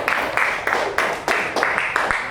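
A classroom of students clapping for a group after their presentation, steady rhythmic clapping in repeated bursts with a faint voice underneath.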